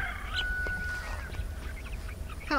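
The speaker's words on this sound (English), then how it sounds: "Our new chickens are out here." Two-week-old chicks out on pasture make thin, high peeping chirps, some drawn out and some short, against a low steady outdoor rumble, with a brief cluster of louder cheeps at the end.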